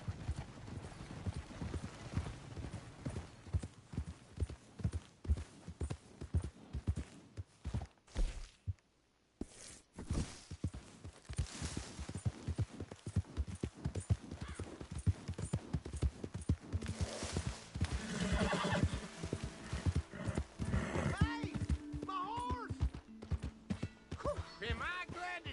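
Horse hooves clip-clop in a steady rhythmic walk for a long stretch, with a brief pause, occasional voices and rattling in the background.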